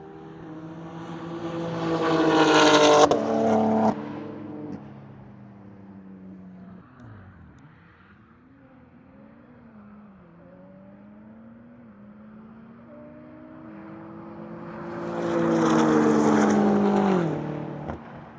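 Several cars, among them an Audi TTS, race down a runway at a private track day, engines rising loud and close at the start, fading off to a distant drone, then roaring back near at the end, with no talk.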